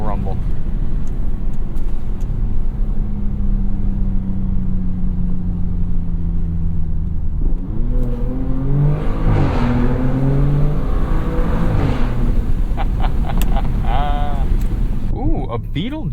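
A 2023 Audi S6 engine rumbles loudly and rises in pitch as the car accelerates through a tunnel, the steady roar climbing in several sweeping waves, with a voice talking over it partway through.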